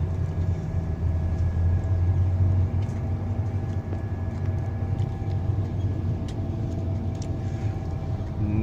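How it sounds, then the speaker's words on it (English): Air-conditioned bus on a ride from Siem Reap toward Poipet, Cambodia: a steady, loud low engine rumble and road drone fills the cabin throughout, with faint rattles and no talking. "Nice air-conditioned bus."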